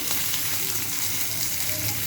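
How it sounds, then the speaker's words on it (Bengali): Parshe fish sizzling as it fries in hot oil in a pan, a steady close crackle with faint clinks of stirring, no talking. "তো মাছ আমার ভাজা হয়ে গেছে এবার একটা একটা করে তুলে নিই মাছগুলো"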